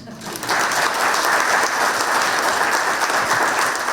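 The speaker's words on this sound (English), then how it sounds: "One more round of applause for everyone." Audience applause breaks out at a community conversation event as a speaker finishes, rising after a brief quiet start into a steady, dense wash of clapping that continues throughout.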